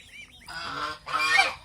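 Geese honk twice in quick succession, loud and near, against an otherwise quiet background.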